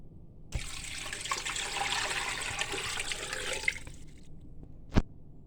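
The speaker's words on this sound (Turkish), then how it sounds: "Evet canlar buna şimdi su koyalım hep beraber." Water pours steadily into a pot of bone-in meat being boiled, a close, continuous splashing rush lasting about three seconds and ending with a single sharp knock, with no voices.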